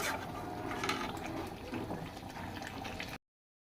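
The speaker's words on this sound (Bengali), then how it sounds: "এবার কিছুক্ষণ ফুটিয়ে নেব এই ঝোলটাকে।" Chicken curry gravy boiling in a pot, a steady close bubbling and simmering churn that runs continuously for about three seconds and then cuts off abruptly.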